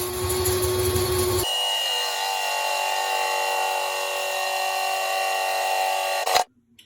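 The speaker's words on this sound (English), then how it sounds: "I'm going to drill the hole" A power drill whines steadily while drilling a faucet hole in a utility sink, shifting pitch once as it bites into the material, then cuts off abruptly near the end.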